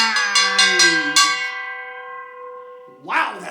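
Loud ringing bell in a virtual classroom, several bright strikes in quick succession followed by a long sustained tone fading away, then a short burst of voice at the end.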